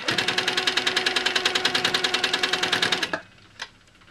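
Sewing machine stitching in the ditch on a quilt block, a fast, steady needle rhythm running for about three seconds, then stopping abruptly, followed by a brief small click.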